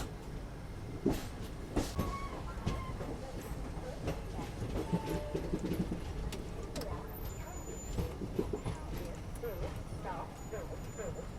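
A train rolling along the Daund chord line near Pune in 36-degree heat, a steady rumble with faint clicks and rattles of the wagons, quiet and continuous, with some voices in the background.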